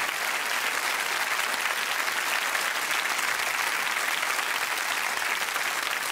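Sustained applause from a TV studio audience greeting impressionist Sandrine Alexi onto a French comedy show, a thick, even wash of many hands clapping for several seconds, uninterrupted by speech.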